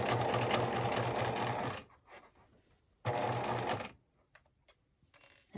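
A sewing machine runs a straight stitch on a fabric face mask in two quick, steady bursts of rapid needle chatter, with short quiet pauses between them.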